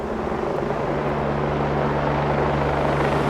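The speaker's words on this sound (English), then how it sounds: "Got a chopper coming in now." A helicopter flies in to water-bomb a wildfire, heard as a continuous, loud rotor rumble with a steady low throb and broad rushing noise that holds evenly throughout.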